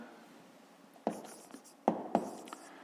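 A pen scratches across paper during a fifth-grade math exercise, with faint soft strokes and a few sharper taps close by, quiet throughout.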